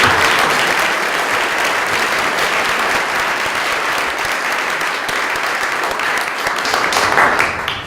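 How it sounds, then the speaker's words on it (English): Steady, dense applause from a large audience at a healthcare ethics session, loud and unbroken for the whole stretch with no voices over it. "can we give another round of applause to both Gary and"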